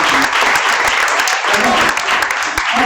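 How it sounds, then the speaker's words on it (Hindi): Audience applause during a Das Lakshan Mahaparv religious gathering, steady and loud for about three seconds with a speaking voice over it. "और इनके हौसले के लिए एक बार फिर से ताली बजाइए।"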